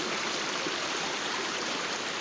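A clear forest stream flows steadily beside a jungle campsite, a continuous bright rushing wash of water close by with no voices.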